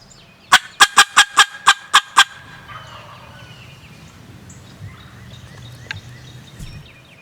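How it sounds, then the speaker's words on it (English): A wild turkey in the woods gobbles in a rapid burst of about eight sharp pulses, fairly close and loud, followed by quiet forest ambience with faint distant calls. "we already heard a couple of turkeys way to my left"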